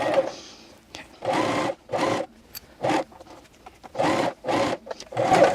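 A Janome CoverPro 1000CPX coverstitch machine sews fabric in a series of short, evenly spaced bursts of rapid stitching separated by brief pauses, close and clear.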